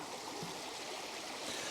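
Water pours steadily over a beaver dam on a mountain stream, a continuous broadband rush with no pauses, close and moderately loud.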